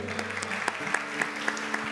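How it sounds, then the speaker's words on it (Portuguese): Audience applause at a Catholic preaching event, a steady wash of clapping with a few sharper claps standing out, moderately loud and continuous, with a faint voice or tone underneath. "Vamos dar uma salva de palmas para ele."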